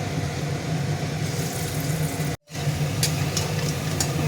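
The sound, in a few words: frying chana dal fritters in hot oil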